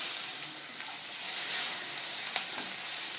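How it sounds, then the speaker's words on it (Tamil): Chopped onions and green chillies frying in a pan for Mysore masala dosa filling, giving a steady close sizzle with a few brief stirring clinks and no talking. "குட்டியாக கட் பண்ண பச்சை மிளகாய் எல்லாம் சேர்த்துட்டு நல்லா ஃப்ரை பண்ணிக்கலாம்."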